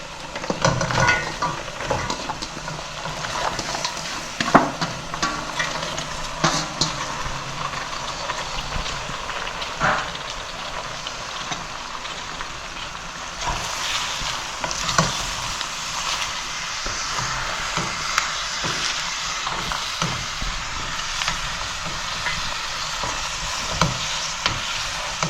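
Vegetables for a vegetable biryani fry and crackle in a pot, loud continuous sizzling with frequent clattering stirs and scrapes throughout.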